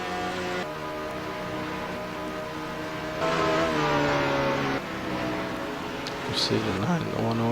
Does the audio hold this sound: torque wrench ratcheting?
no